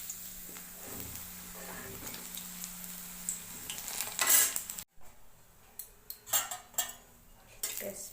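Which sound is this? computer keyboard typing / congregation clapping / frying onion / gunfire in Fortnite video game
frying onion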